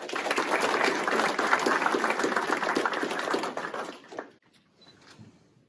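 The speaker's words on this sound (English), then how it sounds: "A round of applause for Andrew." Sustained applause from a sizable crowd at a sheriff's department promotion and awards ceremony, steady and dense for several seconds, then tapering off into a few scattered claps and room quiet.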